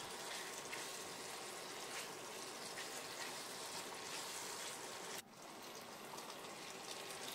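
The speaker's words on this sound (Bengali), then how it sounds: "এইবার একটা বাটিতে কর্নফ্লাওয়ার গুলে এর মধ্যে ঢেলে দেবো" Cornflour slurry pouring into a simmering chili egg gravy gives a steady soft bubbling hiss that stays even, then drops in level briefly near the end and continues faintly.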